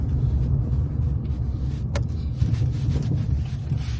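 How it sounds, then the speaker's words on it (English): A Vauxhall Astra with a coolant leak, failed MOT and suspected rear shock absorber fault drives on the road, giving a steady low engine and road rumble heard from inside the car, with no talking. "we're going on the first drive and see how this car drives."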